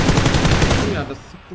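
Rapid automatic gunfire in a multiplayer battle royale shooter game, a loud close burst of evenly spaced shots lasting about a second before cutting off.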